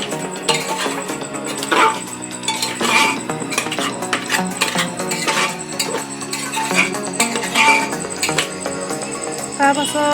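A spoon clinks and scrapes against a pot while potatoes are stirred into mutton curry, irregular metallic knocks and clatters repeating throughout, close and fairly loud, with a voice talking over it.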